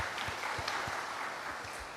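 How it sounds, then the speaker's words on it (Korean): A church congregation claps to welcome a new member during a Sunday morning worship service, soft and somewhat distant steady applause with no one speaking. "우리 박수로 환영합니다"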